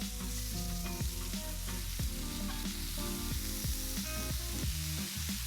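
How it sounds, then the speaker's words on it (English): Teriyaki steaks sizzle on a grill, a dense continuous crackle and hiss with scattered pops and faint clinks of utensils, close and steady with no talk. "Now I'm gonna let these grill for another 4 minutes or so until they have nice grill marks on the other side."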